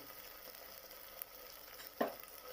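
Chopped ginger and peanuts fry in a pan, giving a steady soft sizzle close by, with a brief clink and a louder stirring scrape near the end, and no talk.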